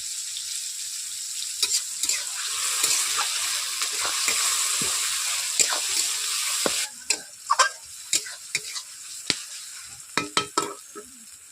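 Onion and chopped tomato fry together in a pan for a fish curry, a continuous hiss under repeated sharp clicks and scrapes of a spoon stirring, growing busier in the second half.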